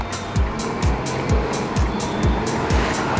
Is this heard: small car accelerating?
yes